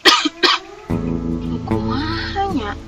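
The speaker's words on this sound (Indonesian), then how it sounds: "Kakaknya tak batuk bieu." A person lets out two sharp, close coughs at the start, followed by a steady, tonal vocal sound.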